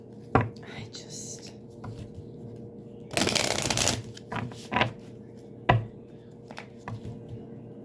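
Tarot cards being shuffled in a few quick riffling bursts, close and soft, with quiet handling sounds and faint talk between.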